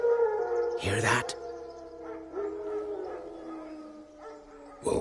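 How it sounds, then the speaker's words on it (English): Wild dogs howl in The Witcher video game, several drawn-out tonal cries layered over one another and sustained across the clip, with a sharp broadband burst near the start and again at the end. "Wild dogs. Yes. More dangerous than wolves."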